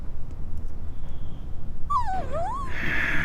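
Dog whimpering in the Final Fantasy VIII video game, a single high, wavering whine that dips and rises, then a brighter tonal cue follows, all over a steady low background rumble.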